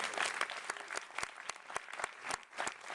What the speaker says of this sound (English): another round of applause for one of our great innovators